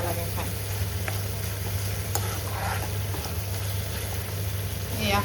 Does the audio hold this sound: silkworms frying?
yes